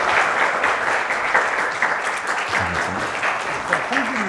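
Applause rings out at a Korean young-adult church winter retreat service as the pastor is welcomed to the front, a dense, sustained crowd clapping with a voice faintly heard underneath.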